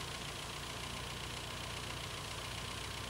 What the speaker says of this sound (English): Start the engine and allow the idle speed to stabilize.